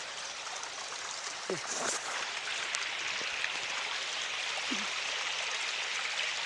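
A forest stream trickles below a mushroom-gathering spot in the woods. The water runs as a soft, continuous wash, with a few faint, brief vocal sounds here and there.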